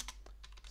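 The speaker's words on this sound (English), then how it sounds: "it's as simple as typing sudo" Typing on a computer keyboard: a short burst of quiet keystrokes in an uneven rhythm, faint and close, with no voices.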